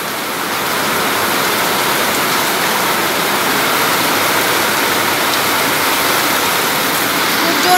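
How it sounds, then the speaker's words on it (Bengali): A very heavy downpour pours steadily and loudly, a dense continuous roar of rain with water running hard nearby, unbroken from start to finish. "খুব জোর বৃষ্টি, খুব জোর বৃষ্টি"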